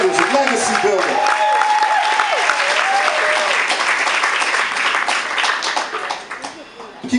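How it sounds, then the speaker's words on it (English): Applause from an open mic poetry audience, steady and dense throughout, with a tonal sustained sound in the first few seconds and a loud crowd of hands clapping before trailing off slightly at the end. "Please give a round of applause."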